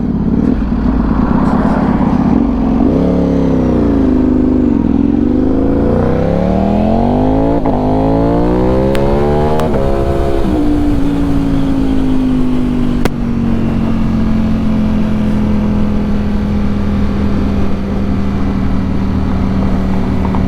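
A 2025 Ducati V4S motorcycle roars loudly while climbing a hill, its engine revving up and down through several gear changes before settling into a sustained steady drone, with heavy wind rush throughout.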